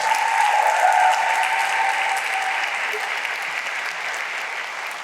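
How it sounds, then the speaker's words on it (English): Sustained, steady applause from a large audience at a city's State of the City event after a school group's performance, filling the whole stretch at an even, fairly loud level with a faint hum beneath. "Give them another round of applause."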